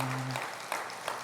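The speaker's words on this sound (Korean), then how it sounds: "박수로 한번 격려하겠습니다." A church congregation at a Sunday afternoon service gives brief, light applause, faint scattered clapping that follows a short low tone and fades within about a second.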